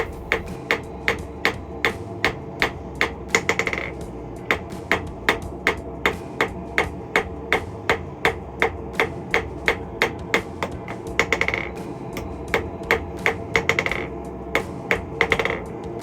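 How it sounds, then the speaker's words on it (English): A hammer forging a bar on the face of an anvil gives steady, evenly spaced ringing blows, dozens in a row with a few brief pauses, sharp and close, and no talking. "hammer with the work sitting on the face of the anvil. Straight downward blows up and down the bar."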